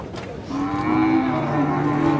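Cattle lowing in a pen at a livestock fair in Tabira, Pernambuco, with a long sustained moo rising close and loud over a busy background of other animals and murmuring crowd noise.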